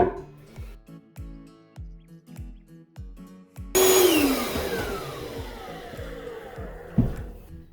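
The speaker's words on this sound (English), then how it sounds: "And then I just vacuum the water out of the toilet." A loud wet vacuum motor kicks on partway through, roaring steadily after a stretch of rhythmic thumping, with a sharp gurgling jolt near the end as it sucks water out of a toilet.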